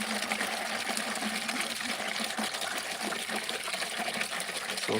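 Water running steadily from a hose or tap into chicken water buckets on a chicken farm during the morning routine, a continuous trickling, gushing fill with no voices.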